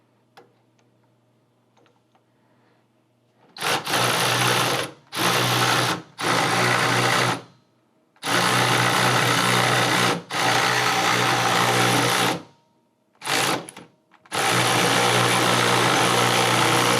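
Bursts of a power tool tightening the front end of a 2004 Harley-Davidson Dyna FXDXI, loud whirring runs of one to two seconds separated by short silences, close up.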